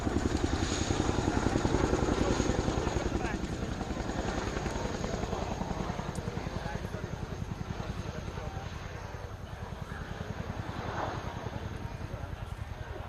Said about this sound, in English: we will see the Chinook making its approach to the centre of the field